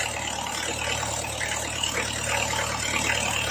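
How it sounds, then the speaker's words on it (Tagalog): Engine of a rice mill running steadily after an oil change, a continuous even drone with a low mechanical hum, close and alone with no talk. "Medyo magaan na yung ikot ng makina."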